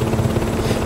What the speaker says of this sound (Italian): sento un elicottero di merda